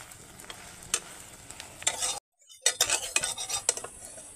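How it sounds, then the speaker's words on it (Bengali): A spatula scrapes and clinks against a kadai as it stirs maida flatbread frying in oil, with a soft sizzle underneath and a short silent break midway. "খুন্তি দিয়ে ঘুরিয়ে ঘুরিয়ে তেল দিতে হবে"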